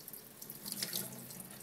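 Filtered water runs from the top of a water filter in a thin, steady trickling stream, quiet and close, with no talking.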